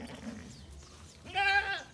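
Sheep and goats in a farm pen, with a single clear bleat rising near the end over a low rumble of background noise.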